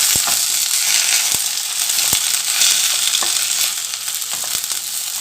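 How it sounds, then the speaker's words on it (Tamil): Green chilies and tomatoes sauté in a hot pan, giving a constant close sizzle broken by sharp clicks of a spatula against the metal, with no talking. "இது எல்லாமே ஒன்று சேர நல்லா வதக்கி கொடுத்துக்கலாம்."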